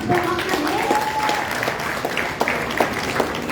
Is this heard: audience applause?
yes